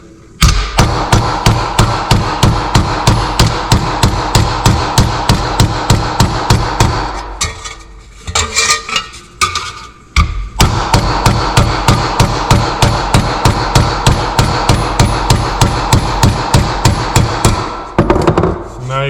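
A hammer pounds metal ribs flat on the anvil of a vise while making rustic sconces: loud, close, evenly spaced blows in long rapid runs, broken by a short pause with some scraping before the hammering resumes.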